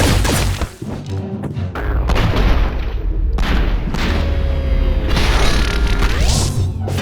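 In Katana Zero, loud gunfire and bullets deflected back by a sword crash and boom in quick succession over a dense, continuous game soundtrack, with heavy impacts throughout.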